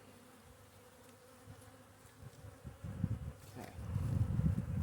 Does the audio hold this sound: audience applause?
no